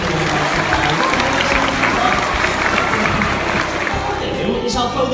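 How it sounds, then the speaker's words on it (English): Audience applauding at a sea lion show in a safari park, dense continuous clapping from a crowd, loud and sustained for several seconds with some chatter mixed in. "Give them both a nice big round of applause if you want."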